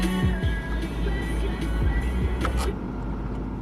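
A car passes close by with a broad engine and tire rumble that rises and then fades away, with no one talking over it.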